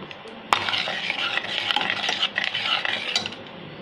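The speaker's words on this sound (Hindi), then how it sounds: "अब इसे हम मीडियम फ्लेम पे तब तक लगातार चलाते हुए भूनेंगे" Spice masala for rajma curry roasting in a pan over a medium flame, with continuous scraping and stirring of a spoon against metal over a soft sizzle at moderate, close range.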